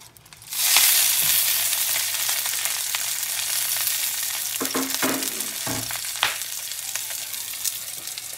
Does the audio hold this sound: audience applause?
no